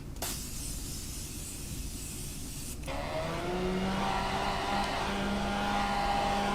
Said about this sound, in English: So now for setting spray, I'm going to be using the Morphe.